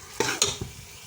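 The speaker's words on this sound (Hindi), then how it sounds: "इसको अच्छी तरह लहसुन अदरक और प्याज में हम गोश्त को अच्छी तरह फ्राई कर लेंगे" Beef frying with garlic, ginger and onion for a korma, a brief close burst of sizzling with a few quick scraping stirs of a spoon in the pot.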